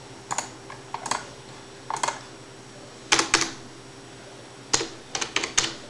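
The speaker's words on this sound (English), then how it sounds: "I'll type it out." Someone types on a computer keyboard in short, uneven bursts of close, clicky keystrokes with brief pauses between groups and a faint steady hum behind.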